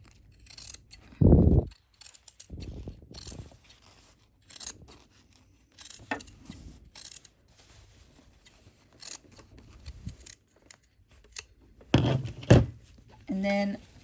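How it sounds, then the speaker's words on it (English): Scissors trim a fabric seam allowance on sewn pants in short separate snips and rustles, close and clear, with quiet gaps between cuts. "we're actually going to trim this seam allowance down"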